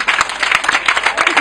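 A church congregation claps and applauds steadily in a rhythmic, lively burst, loud and close, with voices mixed into the crowd noise.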